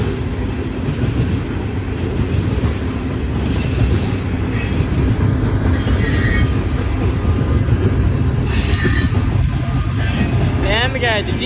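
A CSX freight train with a silent bell rolls down Lincoln Street in Tullahoma, Tennessee, a loud continuous rumble of wagons with wheel clatter and squealing, close by, with no talk.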